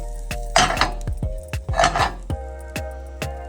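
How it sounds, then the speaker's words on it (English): A heavy grill weight press sets down on a fat-cap-seasoned pork chop on a griddle, giving a string of sharp, ringing metallic clanks with short scraping rasps between them, close and fairly loud. "Use the weight press to help stick it in place."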